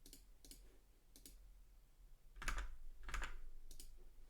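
A computer mouse clicks on a test button, about six sharp, close clicks spaced unevenly across a few seconds in a quiet room, with no talking.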